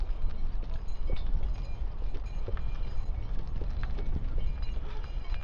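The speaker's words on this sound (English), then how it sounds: "We've actually caught the fishermen going shrimping on their beautiful horses." Horses carrying shrimp fishermen on the Belgian coast clip-clop across the beach, their hooves making a steady stream of close, overlapping thuds under a wind-blown outdoor ambience.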